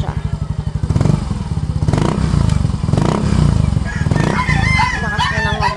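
A Yamaha Mio i 125 scooter engine, newly cleaned fuel injection, idles with a fast putter and revs up in several surges, close and loud, with a rooster crowing and a voice in the background.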